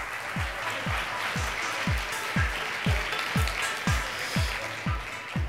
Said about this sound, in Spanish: Demos la bienvenida con un fuerte aplauso a Alfredo Romeo